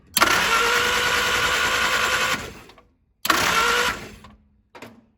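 Barn-find Willys engine cranking over with a new condenser fitted, two loud sustained bursts of starter whir of about two seconds and one second, then a brief final blip, each time failing to catch.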